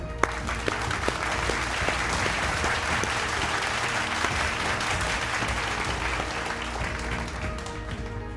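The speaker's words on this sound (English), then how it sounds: "let's applaud them" An audience at a school event applauds students and their teachers. The clapping is broad and sustained, with many hands going at a steady, even level for several seconds.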